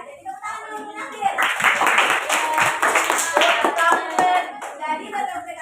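A classroom of students claps hands together in a lively burst lasting several seconds, crisp and close, with children's voices chattering over it and a teacher speaking before and after.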